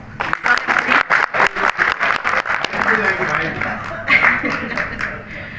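Women in the audience at a reception for visitors invited for Hindi Diwas clap, starting as a string of sharp, distinct claps that swell into fuller applause, with voices heard over it.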